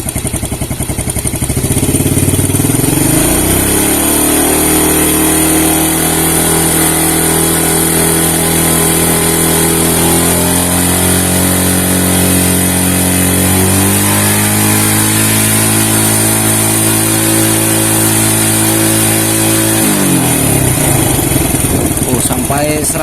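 A Yamaha Vega ZR motorcycle engine revs up and holds steady during an ignition coil voltage test, then drops back, loud and close for most of the stretch.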